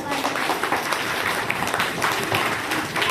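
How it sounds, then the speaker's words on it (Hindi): A first-standard class of schoolchildren claps loudly for themselves at a school function, a dense, continuous burst of many small hands with a few voices mixed in. "और जोरदार तालियां बजाओ अपने लिए सब"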